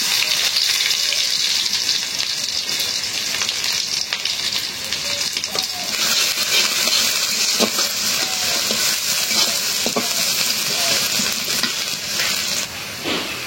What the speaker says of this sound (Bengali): তেলটা গরম হয়ে গেছে, দিয়ে দিলাম পেঁয়াজ।